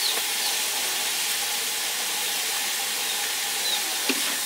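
Bamboo shoots and bean sprouts stir-frying in an oiled pan, a steady hiss and sizzle that holds evenly throughout at moderate loudness, with a small clink near the end and no talking.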